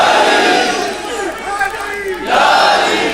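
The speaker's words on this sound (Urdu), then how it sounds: "نعرہ حیدری" A large crowd roars the Naara-e-Haidari religious chant in unison. The loud, massed shout dips briefly in the middle, then surges back at full strength.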